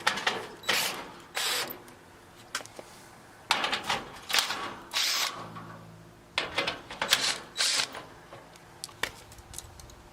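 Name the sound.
drill driving 11mm bolts on air conditioner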